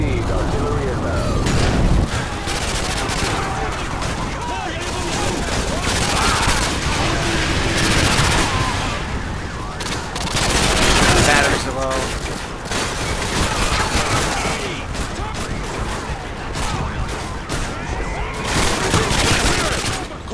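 Continuous heavy battle din from Call of Duty: Modern Warfare 2 (2009) campaign: dense gunfire, machine-gun bursts and booming artillery strikes fill the scene loudly throughout, with in-game voices calling out over the fighting.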